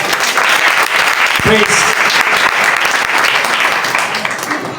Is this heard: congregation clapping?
yes